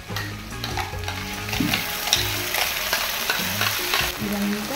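A tomato and fresh coconut paste with green peas sizzles and fries in a pan while being stirred steadily, with close, continuous scraping and bubbling and no voices.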